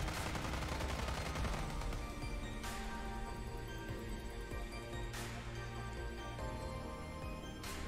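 Sustained rapid gunfire from the video game Counter Side, dense and loud throughout, with several sharper bursts layered over a busy game soundtrack and no talking.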